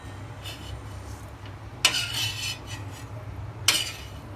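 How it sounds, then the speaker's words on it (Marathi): A spoon scrapes cooled, dry-roasted green-chilli masala for kharda chicken out of a pan and into a mixer jar, with soft rubbing and two sharp metallic clinks against the jar rim, close and fairly quiet over a low background hum. "मसाला थंड झालाय याची पेस्ट करून घेऊ हे मिक्सरच्या वाट्यात काढून घेऊ मसाला"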